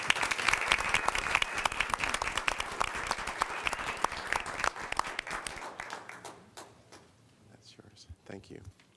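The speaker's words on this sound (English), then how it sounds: "Please give them another round of applause." Loud, sustained applause from a city council meeting audience fills most of the clip, then fades into scattered claps and a few voices near the end.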